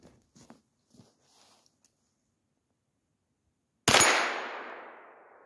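A single sharp rifle shot from a gun fitted with a Holosun 510c optic, outdoors in snow, cracks loudly and decays into a long tail after a few faint handling clicks and a stretch of near silence.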